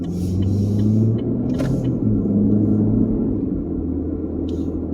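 A car in need of repair idles with a steady low engine rumble, loud and close, droning evenly for several seconds with a faint click or two on top.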